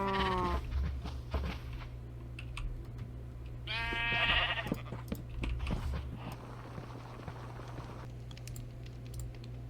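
Minecraft farm animals bleat in short, nasal calls, once near the start and again more loudly around four seconds, over a low steady hum scattered with soft clicks and taps.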